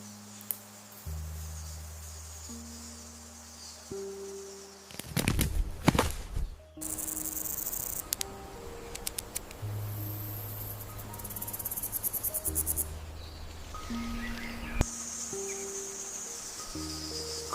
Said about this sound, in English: The buzzing sound of crickets that we often hear is actually a heartfelt love song.